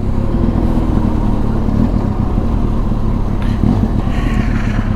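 Steady mid-pitched engine drone from a Benelli TRK 502 X adventure motorcycle's exhaust, idling or holding revs continuously, close and loud with no speech over it.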